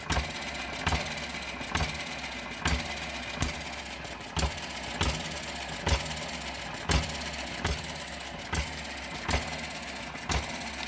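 An Eachine ET7 model engine runs very slowly on a worktop, firing in a regular, evenly spaced chug of about two beats per second, close and steady with no voices.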